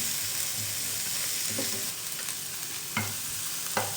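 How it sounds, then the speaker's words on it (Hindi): Onions fry in a pan for butter chicken, giving a steady close sizzle with occasional stirring scrapes and a couple of sharp clinks against the pan. "प्याज को भी 1 मिनट तक हम फ्राई करेंगे।"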